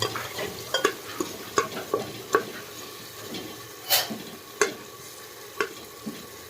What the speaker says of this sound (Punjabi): ਹੁਣ ਤੜਕਾ ਹੋ ਰਿਹਾ ਲਾਲ ਗ੍ਰੇਵੀ ਜੀ ਬਣ ਗਈ